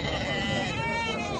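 Sheep and goats bleat amid a busy livestock market in Mashtaga, Azerbaijan, their wavering cries rising over constant crowd chatter and nearby talking.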